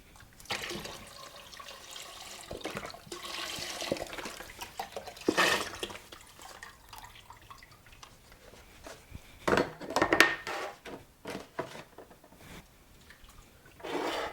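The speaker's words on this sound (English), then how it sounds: "I'm putting the stock and the broth in here, and I also want this to come up to a boil" Stock and broth poured into a pot for Italian pasta fagioli soup, a splashing, gurgling stream of liquid with a few clinks, fairly quiet and close, with no talking.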